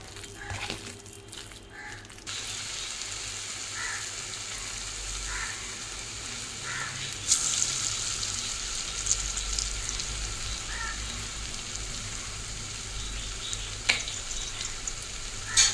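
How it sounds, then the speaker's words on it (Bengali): Jackfruit and prawn kofta balls fry one by one in hot oil, with a steady close sizzle that runs throughout and a few brief clinks and stirring sounds. "গোল গোল করে এক একটা করে ভেজে নেব।"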